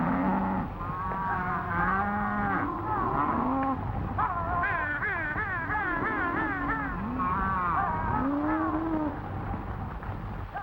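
A herd of cattle from big northern ranches lows continuously, overlapping deep moos and higher bawling calls layered together, loud and close, with no talk.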